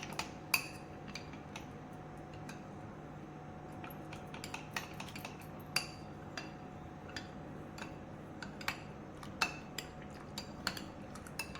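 A spoon mixing in a pot of milk for a fruit custard, with scattered light metallic clinks and taps against the pot over a low steady hum and no talk.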